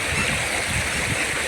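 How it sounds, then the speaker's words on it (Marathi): A village stream flowing steadily, a continuous close rush and gurgle of running water with no voices over it. "पाणी कसं वाहतंय सांगा, झुळ झुळ झुळ. कसा भारी आवाज येतोय पाण्याचा."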